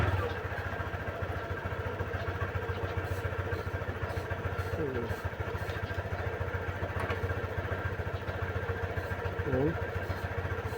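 A Honda Click scooter idles steadily after being started, its engine a continuous buzzing putter close by and loud throughout, with faint voices talking over it.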